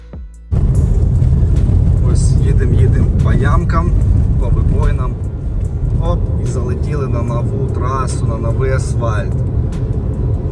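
A car drives along a smooth paved road in Ukraine toward Oleksandriia, with a steady low engine and tyre rumble filling the cabin while someone talks over it for most of the stretch.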